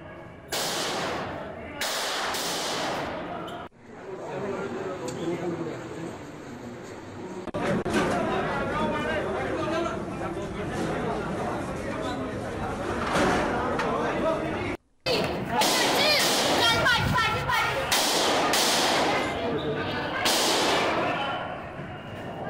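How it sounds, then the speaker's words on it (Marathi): Sharp gunshots ring out during a shootout inside Delhi's Rohini court, heard as several loud, abrupt cracks scattered across a noisy scene. Chatter continues throughout and a commentator speaks over the footage. "गोळ्यांचा आवाज आपल्याला येतो आहे या दृश्यांमध्ये."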